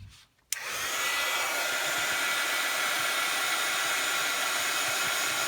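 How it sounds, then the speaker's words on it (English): A hair dryer blows steadily on an art journal page to dry the ink. After a brief quiet start it switches on with a click and runs as a loud, even, close whoosh to the end. "Get my dryer again."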